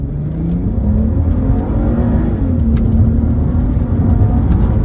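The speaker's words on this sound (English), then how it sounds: "we've got it in automatic sport mode right now. Kind of see how it sounds and how it accelerates." A 2005 Audi TT Quattro with a 250 hp 3.2 VR6 accelerates in automatic sport mode, its engine a steady, loud, rising drone from inside the car with no talking.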